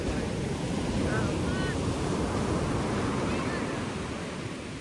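Ocean waves surge onto a shoreline in a loud, continuous roar, with heavy wind buffeting the microphone throughout and faint voices in the background.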